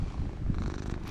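A cat purrs up close in a steady, low continuous rumble, with no voices present.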